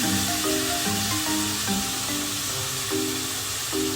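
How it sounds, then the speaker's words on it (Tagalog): Bacon fries in a pan for carbonara with a steady, dense sizzle that hisses continuously at moderate volume, while faint tonal music plays underneath. "ipiprito po muna natin ang ating bacon para maging toasted siya"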